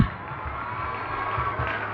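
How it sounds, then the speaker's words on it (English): A school anniversary crowd claps and cheers for a grade 5 student, a soft, steady wash of applause and murmured voices heard from a distance in a large hall. "You can give a big hand clap."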